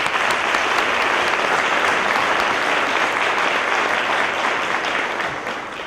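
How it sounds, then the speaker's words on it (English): Sustained audience applause at a fall breakfast session, a dense, even wash of many hands clapping that holds steady and then begins to fade slightly toward the end. "So can we give them a round of applause?"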